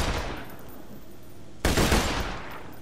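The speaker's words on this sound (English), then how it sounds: "So you get 3 full burst fire trigger pulls before it empties out." Burst-fire gunshots from a weapon in the video game Borderlands 2: two loud, close bursts, one at the start and another about a second and a half later, each tailing off into a rumbling decay.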